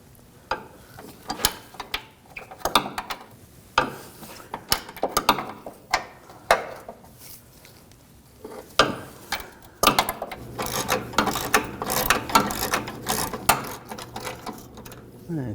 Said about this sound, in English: Use a 18mm wrench on the nut side, 18mm socket on the bolt.